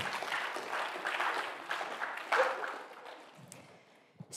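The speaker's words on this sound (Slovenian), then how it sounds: "En aplavz, prosim." Crowd of students and guests clapping at a Slovenian student film event after an improvisation performance, steady dense applause that thins out toward the end, fairly close and filling the room.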